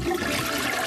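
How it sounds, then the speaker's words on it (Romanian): A toilet flushes in a loud, close rush of water that fills the whole short moment without pause. "E așa greu să tragi apa la toaletă sau ce?"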